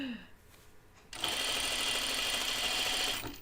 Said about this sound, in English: I'm going to put a gathering stitch around the hem of the sleeve here.